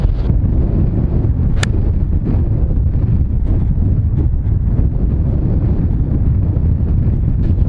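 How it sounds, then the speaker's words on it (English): Strong wind on a golf course roars and buffets the microphone continuously, a loud, dense low rumble with no let-up and no voices. "Wind is absolutely bonkers."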